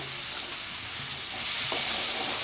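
Masala spiced with turmeric and salt sizzles in a hot pan for Bengali raw jackfruit with prawn, a steady close frying hiss broken by a few soft stirring scrapes.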